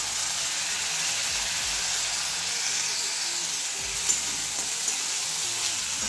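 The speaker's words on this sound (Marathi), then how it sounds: "आम्ही आता थोडीशी मसूर डाळ टाकतोय धुतलेल्या याला" Washed masoor dal, red lentils, tipped into a hot pan for a Maharashtrian fasting shevya dish, with a steady broad sizzle and hiss running throughout and a couple of faint stirring clicks near the end.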